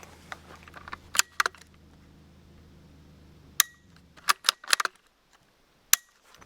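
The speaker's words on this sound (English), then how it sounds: "That was his firing pin." Firing pin of a suppressed gun fitted with a Dead Air suppressor snapping in a few sharp, faint metallic clicks and clacks, spaced irregularly against quiet background hum, with no talking.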